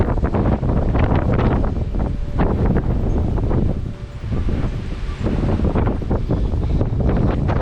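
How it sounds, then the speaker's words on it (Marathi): Strong, cold wind roars across a hill fort at Hadsar near Junnar, loud and continuous with gusty swells and a brief lull midway, with no voices. "इकडे आल्यानंतर हवेच्या आवाजांवर लक्षात आलं तर केवढी हवा इकडे खूप थंड वाटते"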